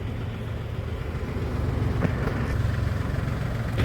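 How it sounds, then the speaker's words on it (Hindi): A tractor with a trolley on a farm runs its engine nearby, producing a steady, unbroken low rumble that holds at an even level for the whole stretch, with no voices. "तो गाइस ट्रैक्टर तो हमारा आ गया है"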